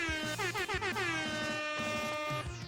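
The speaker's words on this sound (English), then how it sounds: "I also need to find more sound effects for my sampler, so I can play things like an air horn" Air horn sample fired from a sampler, loud repeated blasts with a stuttering rhythm that then hold into one sustained tone, heard alone.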